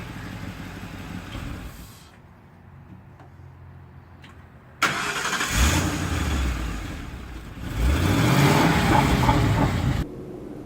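A 1964 Ford F100 truck engine runs, shuts off into near quiet, then cranks and restarts with a loud roar and revs before settling again.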